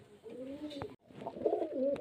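A pigeon coos close by in two soft, throaty phrases separated by a short pause, each a low rolling warble, fairly faint overall.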